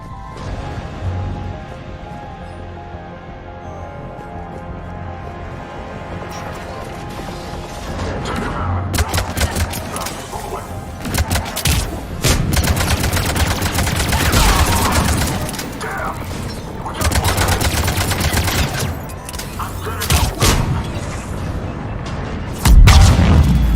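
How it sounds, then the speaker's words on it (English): Cannon and gunfire in a Mass Effect 3 battle, with booms and bursts of shots rising over a dense rumbling mix of game music and effects. "Those cannons have to be stopped."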